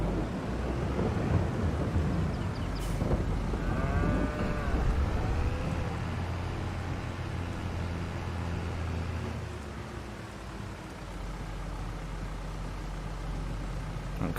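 Cows in the Farming Simulator 22 video game moo in long, drawn-out calls over a dense rumble of thunder and rain, with the lowing clearest in the middle stretch.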